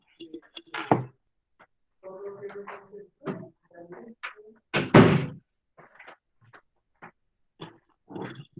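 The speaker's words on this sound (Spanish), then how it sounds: "tengo que cerrar una puerta" A door being closed indoors, with shuffling and a couple of sharp thumps as it shuts, separated by quiet gaps, and a voice speaking in between.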